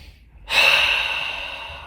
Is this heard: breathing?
yes